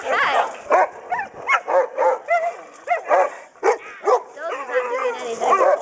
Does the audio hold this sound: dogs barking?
yes